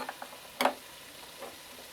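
Sliced carrot, cabbage, green chili and onion fry in a pan with black pepper for chicken soup while a utensil stirs them. One sharp scrape stands out over a faint sizzle and a few lighter taps, and no one speaks.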